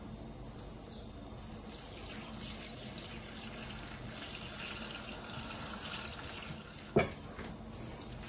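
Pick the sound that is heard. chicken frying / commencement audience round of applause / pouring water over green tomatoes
pouring water over green tomatoes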